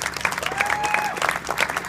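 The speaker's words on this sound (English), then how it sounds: "everyone give a round of applause for the Gift of Life people who work really hard" A crowd at a charity walk for life in Boston breaks into a short burst of dense, close applause, with a voice faintly audible beneath the clapping.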